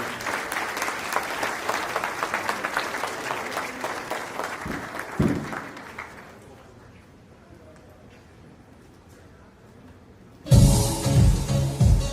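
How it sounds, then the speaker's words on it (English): Wedding reception guests applaud the bride with sustained clapping and some voices for about six seconds. A quiet lull follows, then a loud, close burst of clapping and crowd noise. "Let's get a huge round of applause for the beautiful bride."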